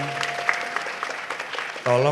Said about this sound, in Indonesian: tepuk tangan untuk Grace